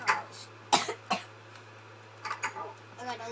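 Several short coughs from a person playing Minecraft on Xbox, close and moderately loud, with a few quieter throat sounds and light talk-like noises after them in a quiet room with a steady background hum.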